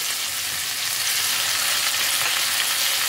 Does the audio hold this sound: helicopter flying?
no